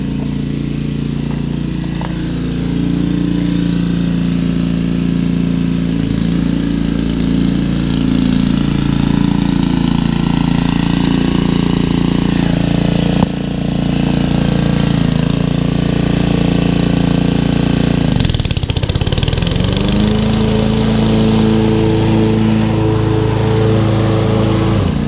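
A Honda lawn mower runs steadily while mowing stripes into a lawn, with a loud continuous engine drone that shifts pitch and load briefly near the end, with no talking.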